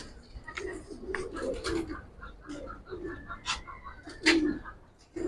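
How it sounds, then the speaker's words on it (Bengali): A silver-necked Giribaj pigeon coos in soft, repeated low phrases at close range, with faint rustling and brief chirps between the calls. "সিলভার গলা একটা কবুতর"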